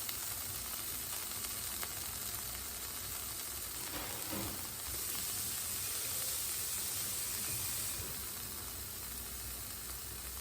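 Onions, garlic and green onions simmer in a skillet for sweet skillet fried corn, giving a steady, moderately quiet sizzle with a soft hiss that runs unbroken throughout.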